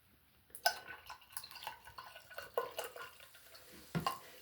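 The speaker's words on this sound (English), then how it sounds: "And I am going to pour the ginger ale in." Ginger ale is poured into a drink already holding Prime, giving faint, close liquid splashes and drips in irregular bursts against a quiet background.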